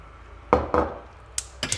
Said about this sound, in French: dans ma casserole, je vais mettre mes pistoles de beurre de cacao